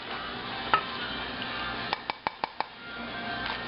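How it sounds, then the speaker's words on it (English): Taco bake with cheese being stirred in a pan, a soft steady scraping with a faint sizzle beneath and a quick run of sharp utensil clicks against the pan partway through. "I'm going to mix it around, and it's taco bake."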